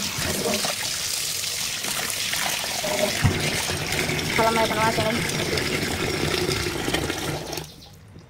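Tap water runs and trickles steadily into a vessel as beef is set to soak in a home kitchen, with someone speaking over it before the flow stops abruptly at the end.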